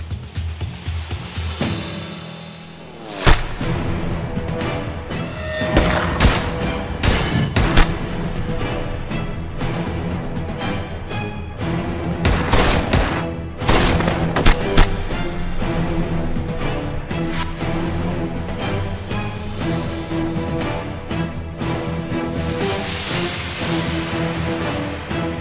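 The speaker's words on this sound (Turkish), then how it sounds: "Bak, duyuyor musun? Keşanlı'nın silahı bu." Rapid bursts of gunfire from Keşanlı's gun crackle through a dense, busy mix of mechanical clatter and noise, with sharp loud cracks clustered early on and continuing over a constant rumbling background.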